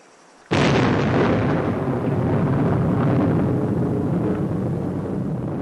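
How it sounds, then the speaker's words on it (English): Atomic bomb detonation at the Trinity test near White Sands: a sudden massive blast bursts out of silence, then a loud, sustained roaring rumble that continues without letting up. "50 years ago, the first atomic bomb was detonated in the Trinity test near White Sands."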